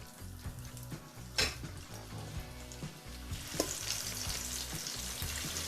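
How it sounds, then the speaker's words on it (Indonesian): Empal beef sizzling and frying in hot oil in a pan, a close, steady crackle with occasional louder pops and spatter, no voices. "Kita lanjut proses menggoreng."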